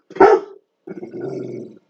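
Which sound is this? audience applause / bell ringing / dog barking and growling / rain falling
dog barking and growling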